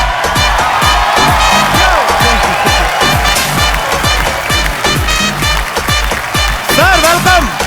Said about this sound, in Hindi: जोरदार तालियों से स्वागत कीजिए सलामी बल्लेबाज वीरेंद्र सहवाग का